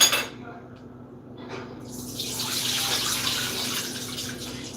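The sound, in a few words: rinsing oxtails under running tap water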